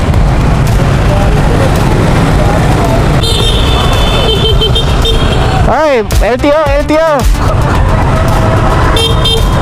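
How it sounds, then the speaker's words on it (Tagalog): Busy city street traffic in Dagupan City during a vehicle caravan, with a steady roar of engines and several car horn toots and honks standing out midway, while people talk over the noise. "Traffic na, ah."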